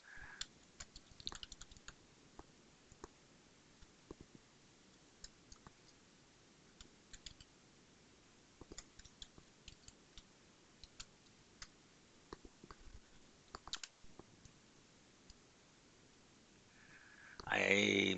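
Touch typing on a computer keyboard in a dim office, heard as scattered soft clicks and short bursts of keystrokes at close range, fairly quiet, with a louder rustle at the very end.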